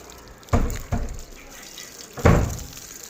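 Water is splashed onto a bicycle during washing, heard as three short close splashing bursts separated by quieter gaps.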